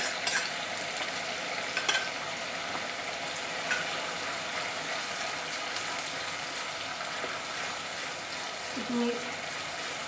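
Ginger garlic paste frying in oil for a chole curry gives a steady, dense sizzle that runs the whole way through, with a few faint clinks of stirring near the start and end.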